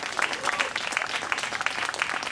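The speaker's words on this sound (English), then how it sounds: "So one more applause for Naveed." An audience claps warmly at an urban farming groundbreaking ceremony, dense close applause from a modest crowd sustained throughout.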